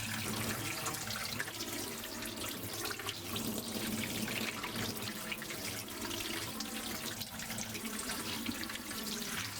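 Lukewarm tap water pours steadily over a Zerochrome alternative photographic print in a sink, a continuous close splashing rush with no speech.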